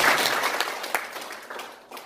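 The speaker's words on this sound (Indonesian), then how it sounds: "Tepuk tangan bagi Roh Kudus." A church congregation claps in a short burst of applause that quickly tapers off, fairly near and moderately loud.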